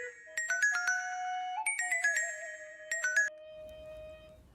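Telephone ringtone playing a bright electronic chiming melody in repeated bursts, clear and close, then stopping into near silence with a faint low rustle at the end.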